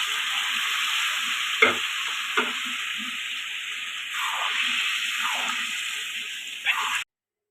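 Stirring boiled chickpea dal into fried spices in a pan, a steady close sizzle with a few soft scraping strokes of a spoon.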